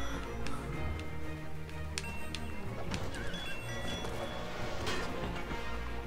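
In the video game Last Knight: Rogue Rider Edition, a horse neighs and its hooves clop, set against busy in-game music and effects at moderate loudness.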